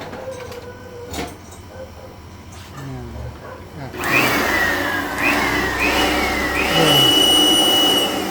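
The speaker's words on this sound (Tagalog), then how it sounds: "Gamit kayo ng portable blower." A portable blower blasts air over a Nissan Navara engine bay during a coolant replacement, a loud steady rushing roar starting abruptly partway through and continuing to the end, with people talking before and during it.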